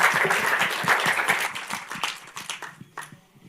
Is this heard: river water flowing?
no